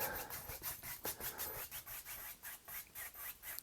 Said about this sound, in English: You can just scrub it in there like this.